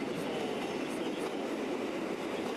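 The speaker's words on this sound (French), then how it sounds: "Notre rame tractée en provenance de Chur à destination de Saint-Moritz va rentrer en gare de Stiefenkastel." A locomotive-hauled metre-gauge passenger train from Chur pulls into Stiefenkastel station on the Swiss narrow-gauge line in 1996, giving a steady, loud rumbling roar of wheels and carriages with faint clatter throughout and no voices.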